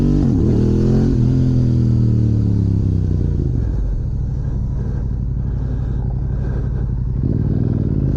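A Yamaha R7 fitted with a GYTR quickshifter revs and shifts while riding at fairly low RPM, a loud close engine growl rising and falling through gear changes with wind rumble throughout.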